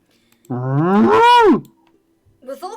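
A human voice imitates a cow's moo: one long, drawn-out, rising and falling low call, clear and close, followed by a brief murmur of talk.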